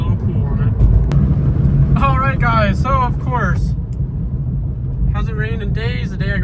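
An Audi S4 engine idles and rumbles low and steady nearby while someone talks over it.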